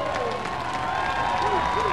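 Football crowd at an Elon home game on a cool, overcast afternoon, cheering and applauding after a first down against Georgia Southern; a steady, broad roar of clapping and cheers held at an even level throughout, with a voice faintly heard under it.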